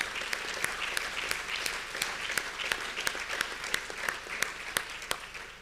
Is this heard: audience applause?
yes